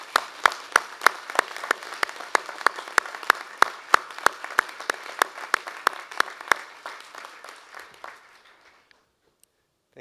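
Graduates at a university science graduation ceremony applaud their friends and family, a sustained round of clapping from a large crowd that thins out and stops near the end, with no talk.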